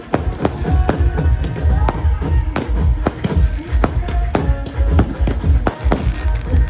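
Firecrackers burst at a wedding as the groom makes his entry. Loud, sharp bangs and cracks come in rapid, irregular succession over a continuous crackling roar.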